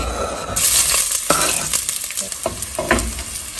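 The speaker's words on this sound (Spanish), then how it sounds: "En una cacerola, una ollita, vamos a agregar un poquito de aceite. Vamos a agregar la cebolla." Chopped onion sizzles and crackles in a little oil in a small pot, stirred with scraping sounds, sustained and close with no talk.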